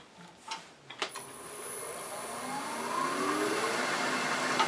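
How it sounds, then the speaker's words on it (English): Wood lathe spinning a bird-shaped piece for multi-axis turning, with a skew chisel cutting a V: a few sharp knocks and taps at first, then a steady rising whir and scraping hiss of the cut that swells and holds, close and loud, no talk. "we're just going to go ahead and use a skew, make a big V cut"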